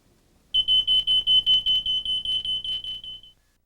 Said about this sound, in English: check the smoke detectors in your home to make sure they're